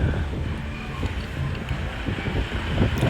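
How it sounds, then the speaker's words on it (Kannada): Strong, steady wind buffets the microphone during a monsoon motorcycle ride on a cloudy, partly off-road route in the Malenadu hills near Chikkamagaluru, a continuous loud low roar with no talking. "ತುಂಬ ಗಾಳಿ ಇದೆ ಆ್ಯಂಡ್ ಸಿಕ್ಕಾಪಟ್ಟೆ ಕ್ಲೌಡಿ ಇದೆ ಇಲ್ಲಿ"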